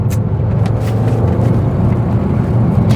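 An old Audi TT's engine misfires while driving on a resurfaced road, a steady loud low rumble from inside the car with slight uneven roughness and no talking.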